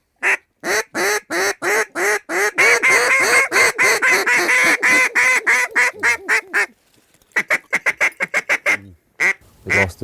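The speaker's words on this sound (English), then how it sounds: "Wood ducks on the right." Wood ducks call in a loud, rapid series of squealing quacks and honks, a dense burst that breaks into scattered shorter calls, close and clear with no talking.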